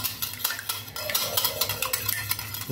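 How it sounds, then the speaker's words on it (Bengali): Eggs are beaten in a bowl with a utensil, giving rapid rhythmic clicking and scraping strokes, close and steady, with no voices. "দিয়ে আমি এটা এখন ভালো করে ফাটিয়ে নেব, মিক্স করে নেব।"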